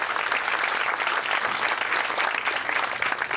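A crowd applauds continuously, a dense, steady clatter of many hands clapping with no break.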